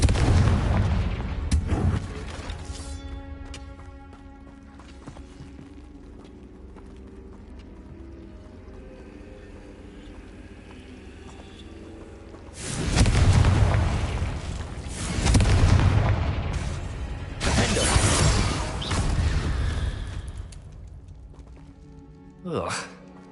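Confringo spell blasts in Hogwarts Legacy boom out as several loud explosive bursts, some close together, following calmer music and spoken lines.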